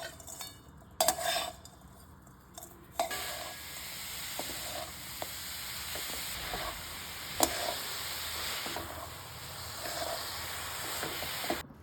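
Coconut and jaggery filling cooking in a pan for Odisha kakra pitha, with metal utensil scrapes and clinks over a soft, steady sizzle, a few sharper knocks standing out.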